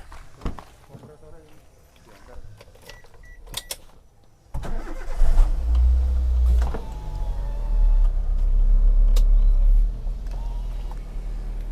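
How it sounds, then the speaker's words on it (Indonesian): A used car's engine starts after a few seconds of quiet rustling, then settles into a loud, steady idle with a heavy low rumble, and someone talks briefly over it. "Wah, coba tak hidupin dulu kalau gitu mesinnya."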